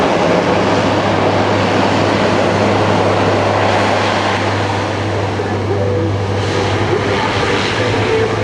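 Military aircraft roar during a combined arms demonstration at an Air National Guard open house airshow, a steady loud engine drone with a deep hum that holds throughout without pause, no voices over it.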